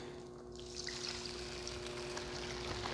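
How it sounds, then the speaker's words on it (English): Sauce is poured into a hot pan after browned Greek chicken is taken off the heat, giving a faint, steady sizzling trickle that keeps on at low level with no talk. "now we can pour this sauce in there and let it reduce down a little bit"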